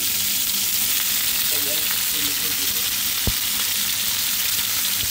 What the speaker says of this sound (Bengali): আমার মাছ ভাজি, আর এটা রোস্টের জন্য চিকেনটা ভেজে নিচ্ছি